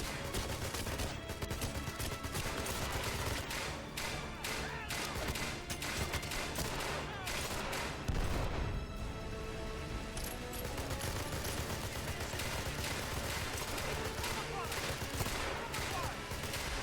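Rapid, relentless gunfire from a weapon in the 007 Legends video game, dense bursts of shots crackling nearly nonstop with a brief heavier blast midway, loud and close.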